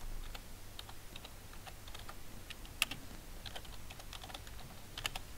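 Fingers type on a computer keyboard at a desk, entering company names for bookkeeping software practice; quiet, irregular key clicks in short bursts, one sharper tap standing out, no talking.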